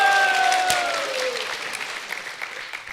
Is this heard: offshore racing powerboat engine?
no